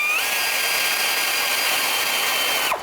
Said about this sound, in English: 14 millimeter socket for the top bolt